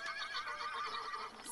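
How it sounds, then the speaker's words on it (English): A horse whinnies and neighs in a drawn-out, wavering call that fills the short moment, loud and close with no talk over it. "In his big red barn was Big Brown Horse"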